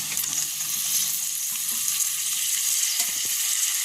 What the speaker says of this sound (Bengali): টমেটোটা ভালো করে নাড়াচাড়া করে ভেজে নেব